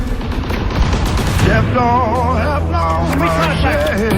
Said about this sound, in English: Look like a mounted MG42.